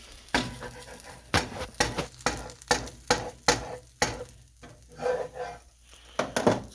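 Food frying in a granite rock nonstick pan, a spatula scraping and tapping the pan in repeated strokes about every half second over a soft background sizzle, close and fairly quiet.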